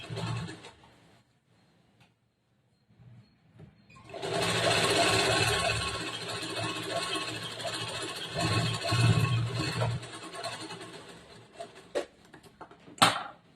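Sewing machine stitching the side seam of a blouse, a steady loud mechanical whir running about six seconds after a quiet start, with brief handling clicks and a short sharp knock near the end.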